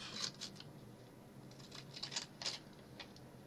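Quiet, crisp snipping of scissors, a handful of short sharp cuts in an irregular rhythm against faint room noise.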